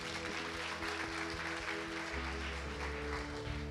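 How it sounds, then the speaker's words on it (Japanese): A church congregation claps steadily, a dense, sustained round of applause with a low hum beneath. "イエス様に拍手してください。"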